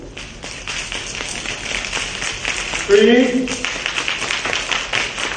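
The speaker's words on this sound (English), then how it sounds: "now we'll have one finger clap" An audience does one-finger claps in a rhythmic series of light taps, steady through the clip, while a speaker counts aloud over them.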